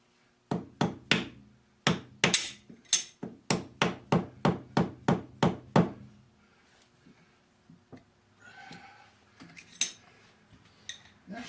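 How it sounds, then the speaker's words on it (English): A hammer taps a metal lathe part about sixteen times in a quick, fairly even series of sharp, close strikes, followed by quieter scattered knocks and faint shop noise. "And just give it a little tap."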